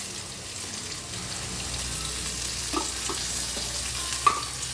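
Onions and tomato fry gently in a spoonful of oil in a kadai, giving a soft, steady sizzle with a few faint clinks and scrapes, close and fairly quiet.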